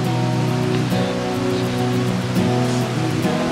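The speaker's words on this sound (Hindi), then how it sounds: "चारों तरफ पहाड़ों के बीच में एक झरना बह रहा है" A waterfall pouring between mountains gives a steady, dense rush of falling water that runs throughout, with a faint tonal hum sitting beneath it.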